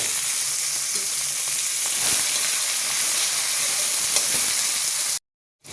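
Chopped onion dropped into a hot pot of oil for khichuri, a loud, dense, continuous sizzle and hiss close by, holding steady before cutting off abruptly near the end, with no talking.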